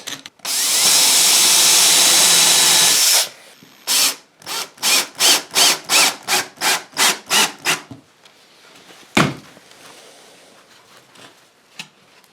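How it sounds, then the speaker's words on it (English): Power drill boring small pilot holes in wood: one long continuous whir, then a quick series of about ten short bursts, close and loud, followed by faint handling clicks. "now we're going to drill some little pilot holes in these"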